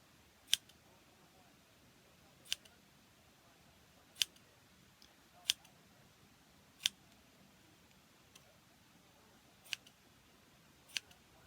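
Sharp, isolated snips of scissors cutting fabric, about eight crisp cuts spaced a second or two apart against a quiet background.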